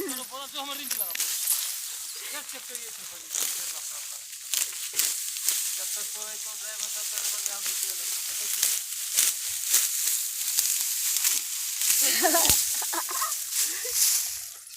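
Wheat being cut by hand in a field gives crisp rustling, crunching strokes of stalks, repeated close by, while people talk over them throughout.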